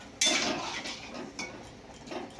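Spoon clinks and scrapes against a pot of curry while it is stirred, a few distinct metallic strokes close by and moderately quiet, with no voices.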